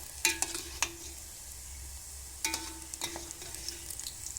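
Aloe vera frying in hair oil in a pan, a steady soft sizzle with a few sharp clicks and knocks from stirring at the start and middle, close and moderately quiet, with no talking.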